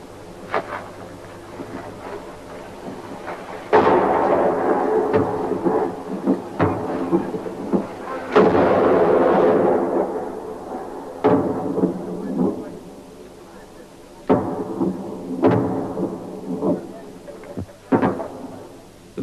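Argentine artillery harassing fire in the Falklands War, 1982, lands as a series of heavy booms, about a dozen thudding blasts at irregular intervals, each rolling away into a rumble.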